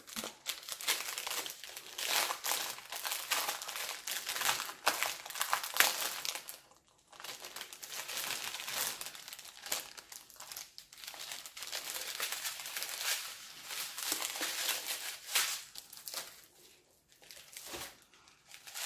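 Crinkly plastic packets of diamond painting drills being opened and handled up close, with continuous dense crackling and crumpling, a brief pause midway, then more rustling and crinkling; no talking.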